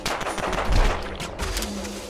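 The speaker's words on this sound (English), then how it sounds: "I think I shot one extra time there." Gunshots from a firearm in the game Reclaim Earth, a quick cluster of loud close shots with heavy low thumps, crowded together within about two seconds.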